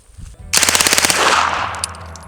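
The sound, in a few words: Luty 9mm submachine gun firing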